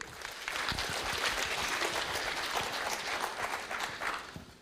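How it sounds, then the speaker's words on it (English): A room at a 2020 university entrepreneurial fair breaks into steady, dense applause for a family business owner, loud and close, fading at the end. "Give him a clap."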